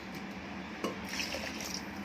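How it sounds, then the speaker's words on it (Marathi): Water poured into a pressure cooker holding basmati rice for kheer, a short wet splash and trickle with a brief clink of metal, close by and alone. "कुकरमध्ये आपण आता टाकलेलं आहे आणि थोडं पाणी टाकून"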